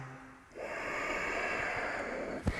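A deep breath during a wrist stretch in handstand practice: a long, steady, airy breath held close to the mic, ending in a short sharp puff.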